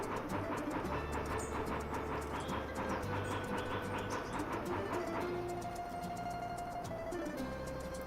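A steam train in the video game Bounty Train runs steadily with rhythmic wheel clatter and chugging, a continuous mechanical rail sound at moderate level with no talking.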